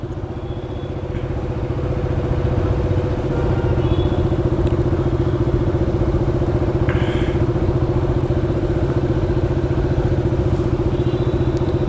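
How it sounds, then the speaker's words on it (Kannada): A motorcycle engine idles steadily while warming up, a close, even low throb that holds its pace for the whole stretch, with faint clatter and no speech. "ಮಿನಿಮಮ್ ಅಂದರೂ ಒಂದು 10 ಸೆಕೆಂಡ್ಸು ಐಡಲ್ ಬಿಡಬೇಕು, ವಾರ್ಮಪ್ ಮಾಡಬೇಕು ವೆಹಿಕಲ್ಲು"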